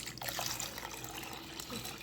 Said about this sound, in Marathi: बाजरी ही स्वच्छ धुवून घेतली आहे मी आणि त्यामध्ये आपण चांगलं पाणी घालणार आहोत